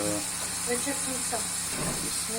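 Shrimp sautéing in a hot pan gives a steady, close sizzling hiss that runs unbroken throughout, with a voice murmuring faintly underneath.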